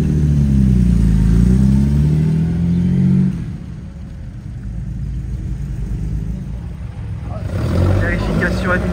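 Classic cars at the Tour Auto historic rally stage start, including Triumph TR, Peugeot 404, Jaguar C-Type, Maserati and Alpine A106, rev and rumble loudly nearby, a strong engine roar dropping to a steadier idle drone with speech over it.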